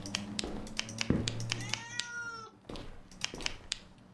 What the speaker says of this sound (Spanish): Se ha escuchado un gato.